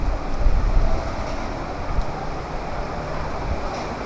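Typhoon Aghon's strong wind roars and gusts continuously in Santa Cruz, Laguna, Philippines, with a dense wash of rain hiss and rumble, loudest at the start, no voices.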